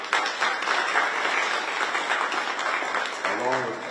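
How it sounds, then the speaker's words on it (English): A crowd gives Rec and Parks sustained applause at an AFRAM announcement, a thick, even clatter of many hands, with a voice briefly coming through near the end. "let's give Rec and Parks a big round of applause"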